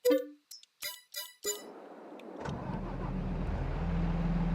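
Electric forklift in Farming Simulator 22, with a few clicks and chimes followed by a steady motor hum and whine that gradually builds and holds at a moderate level.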